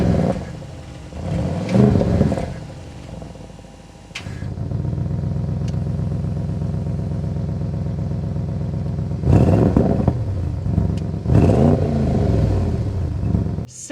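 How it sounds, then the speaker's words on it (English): A 2026 Audi RS7 Performance with a 621-horsepower twin-turbo V8 fires up and settles into a loud, steady idle, its exhaust rumbling close by, with a few sharper blips of revs toward the end. "We need to go inside and start it up so you can hear that exhaust note."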